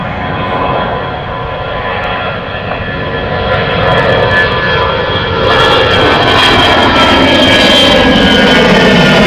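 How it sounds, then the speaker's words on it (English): A TUI Boeing 787 jet at Gatwick Airport roars steadily and loudly, its engine noise building and filling the air for the whole stretch with no voices over it. "At Tui 787"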